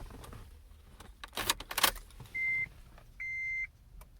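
Keys jangle briefly, then two steady electronic key-in warning chimes sound from inside a 2008 Acura TL, each held for a moment, separated by a short gap.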